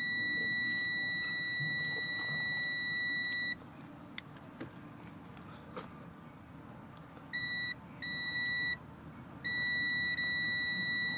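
A multimeter's continuity tester beeps with a steady, high-pitched tone while probing the pins of a car power window switch. The long tone cuts out when the switch is pressed, then returns in short bursts before sounding steadily again.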